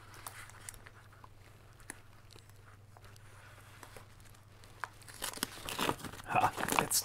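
Adhesive tape ripped off a package of boxed Commodore 64 games on CD during an unboxing, a few close crinkling tears building up loudly toward the end after a quiet stretch with faint handling.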